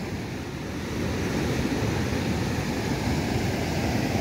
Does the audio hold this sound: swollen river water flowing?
yes